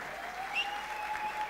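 A concert audience at a music school performance applauds steadily, a soft, even patter of many hands with a sustained tone running beneath it.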